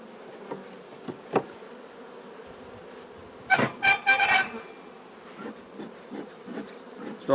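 Honey bees buzz loudly in an open hive during a queen search, with a sustained drone swelling into a strong close burst midway, then settling into lower intermittent buzzing.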